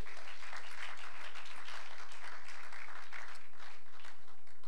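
Church congregation applauding and cheering in praise during a worship service, sustained dense clapping throughout, moderately loud and steady with no speech over it.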